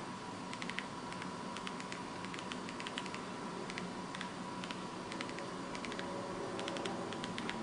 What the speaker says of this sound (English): In terms of creating actual emails, the keyboard's pretty nice.